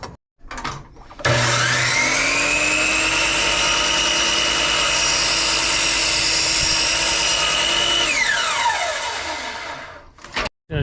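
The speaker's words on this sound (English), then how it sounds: "So I'm just going to mark this and cut it." A power saw cuts a piece of material for a flare box on a Ford Transit AWD van build, a loud high whine that spins up, holds steadily for about seven seconds, then winds down.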